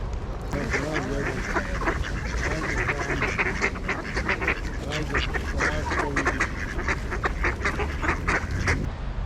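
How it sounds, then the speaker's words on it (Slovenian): A duck in a park quacks repeatedly in a busy, uneven series of loud calls, with people talking throughout and outdoor background noise underneath. "Lejte tega racmrčka, kako je lep."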